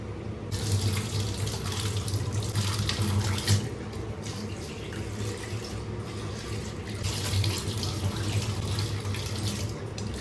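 Water left from rinsing rice and lentils is poured onto plants, a continuous splashing stream running steadily and close for the whole stretch, with no talking.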